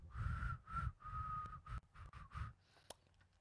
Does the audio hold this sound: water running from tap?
no